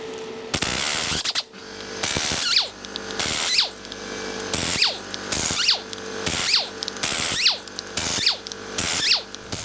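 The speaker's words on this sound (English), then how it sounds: "Time to get the head bolts out." Power tool loosening cylinder head bolts on a blown Mercedes M156 6.2L AMG V8 engine, a series of about eight short, close, loud whirring bursts with brief pauses between, each ending in a rising whine.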